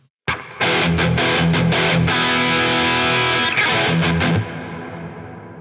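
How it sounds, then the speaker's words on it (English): A distorted electric guitar through the Neural DSP Archetype: Tim Henson plug-in rings out in sustained chords, drenched in reverb, with a long echoing tail fading after the playing stops. "We have a reverb here that we can turn on."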